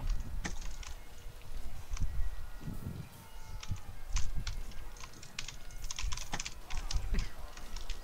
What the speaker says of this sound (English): What are you typing? Why are you typing?